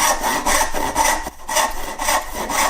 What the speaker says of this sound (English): so I'm just going to make a kerf.